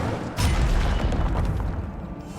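Loud fiery blast from an Incendio fire spell in Hogwarts Legacy, a sudden booming whoosh that swells and rumbles on steadily for about two seconds, dense and close.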